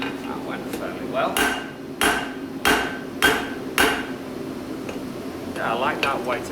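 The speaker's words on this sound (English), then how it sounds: "I like that weighted hammer for that bit" Five evenly spaced weighted-hammer strikes on hot metal land in a row during forging, loud and close, followed by quieter shuffling and faint movement.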